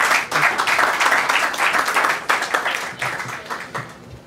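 An audience applauding two speakers at a political club event, a room full of clapping in dense uneven bursts that swell and ebb, fairly close, without anyone talking over it.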